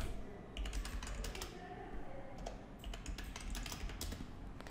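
Typing an email address and password on a computer keyboard, rapid irregular clicking keystrokes in short bursts, close and fairly quiet, with no speech.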